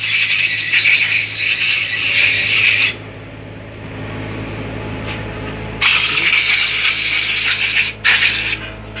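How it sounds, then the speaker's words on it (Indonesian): Compressed air from an air compressor sprays in loud bursts against an engine cylinder head after valve lapping, a harsh hiss with a short gap between bursts and a brief break near the end, with no talking. "Semprot menggunakan air kompresor. Angin kompresor ya bro."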